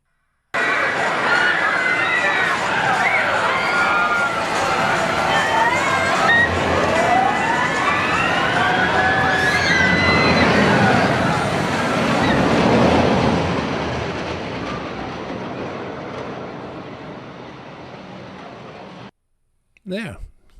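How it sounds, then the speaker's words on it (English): A roller coaster sound effect: a rumbling rush with sweeping whining tones swells as it approaches, roars loudest around the middle, then fades steadily away, followed by a short separate noise at the end. "you slowly start to hear the roller coaster coming. It goes by and then fades away as the credits roll"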